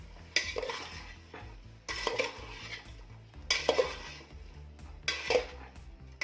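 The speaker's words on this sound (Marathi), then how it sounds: "चवीनुसार मीठ घालायचं आणि आता हे छान मिक्स करून घ्यायचं" A spoon stirs salt into pav bhaji in a large pot, producing four bursts of scraping and clattering against metal with short pauses between, close and moderately loud.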